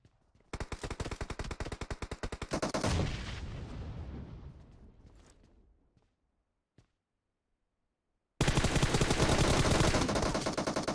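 Rapid automatic gunfire from PUBG Mobile on the Erangel map, loud bursts with shots rattling close together, fading into scattered echoing reports and a gap of silence before another heavy burst erupts.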